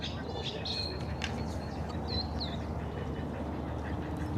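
A loud duck or similar waterbird calling near a lake in Tucson, with calls repeating over steady outdoor background noise and people talking.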